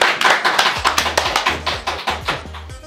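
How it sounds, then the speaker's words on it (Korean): A small audience at a book talk claps in a steady, even rhythm, each clap crisp and close, continuing for a few seconds. "자, 박수 감사합니다."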